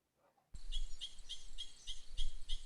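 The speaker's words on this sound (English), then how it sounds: "these sounds are American pika." An American pika in Great Basin rocky terrain gives a series of about eight short, high squeaky calls at a steady pace. The calls are fairly clear against a low background hiss.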